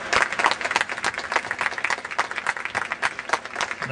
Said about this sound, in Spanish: Un aplauso, ¿no? Para esto,